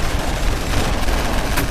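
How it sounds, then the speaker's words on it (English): Gunfire fills a sewer standoff in a DC action film, a dense, loud, continuous barrage of overlapping shots with no voices, sounding like a sustained fusillade. "is quickly bombarded by a swarm of gunfire"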